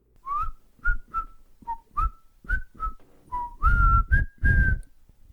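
A person whistles a lilting tune of about a dozen distinct notes, some sliding upward, in a relaxed rhythm with short breaths between phrases, close and clear with nothing else heard.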